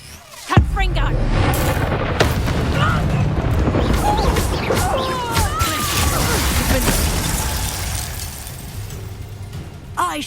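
Confringo spell blast in the Hogwarts Legacy video game: a sharp booming explosion near the start, followed by crackling debris, crashes and scattered magical effects, with a smaller burst at the end.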